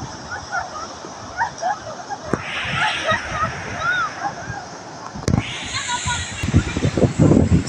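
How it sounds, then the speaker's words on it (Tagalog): Large waves roll onto the white sand shore at Patar, Bolinao, Pangasinan, with two loud swelling rushes of surging, sloshing water. Voices talk over the surf between the breaks. "Ang lalaki ng alon."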